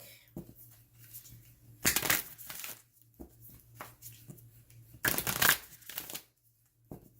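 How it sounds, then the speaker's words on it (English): An oracle card deck is shuffled by hand, with two louder riffling bursts separated by soft, close taps and slides of the cards. "The last card I'm going to pull is from the Universe Has Your Back deck."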